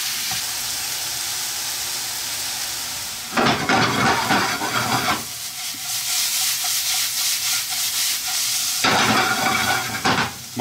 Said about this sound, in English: I'm going to throw in these mushrooms. We want these 2 to cook together.